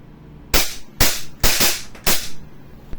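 WE Glock 18C Gen 4 airsoft pistol fired semi-auto with blowback, four sharp, loud snapping shots spaced about half a second apart, close and with no talk.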